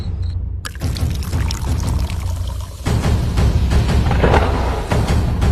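Cold tap water pours steadily while dishes are washed by hand, a loud, continuous splashing that begins after a short quiet moment and swells stronger partway through, with no talk over it.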